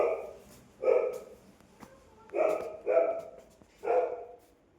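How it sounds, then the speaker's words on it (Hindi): A dog barks five times nearby in two uneven bursts, each bark loud and short with brief quiet gaps between them. "बरबत्ता भौंक रहा है एंड मुझे ऊपर ही बुलाया है।"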